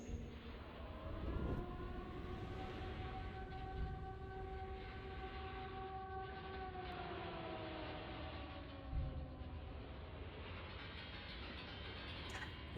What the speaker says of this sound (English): That's the siren when the fog comes.